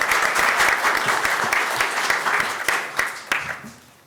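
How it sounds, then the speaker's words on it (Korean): An audience at a parliamentary pension debate forum applauds loudly and steadily, a dense wash of many hands that fades out toward the end. "박수로 맞이해 주시면 감사하겠습니다"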